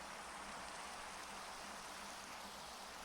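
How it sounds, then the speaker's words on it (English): Steady rain falls in a farming video game, a constant soft hiss of drops with no pauses, moderately quiet and heard alone. "And it's raining."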